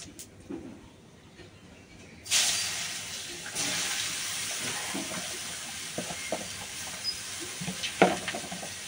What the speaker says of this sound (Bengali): লাউটা দিয়ে দিচ্ছি, নেড়ে চেড়ে লবণ দিয়ে দেবো।